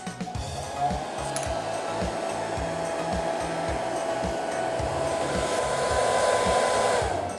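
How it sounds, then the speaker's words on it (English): A hair dryer blows steadily with a constant whirring drone, close and fairly loud throughout. "I mean the hairdryer."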